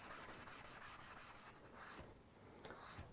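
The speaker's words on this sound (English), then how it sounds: "I'll go over my area where I'm going to be welding with the Scotch-Brite just one final time here" Scotch-Brite pad scrubbing metal before TIG welding, a quiet rhythmic rubbing of quick repeated strokes that pause briefly and then resume, heard alone without talk.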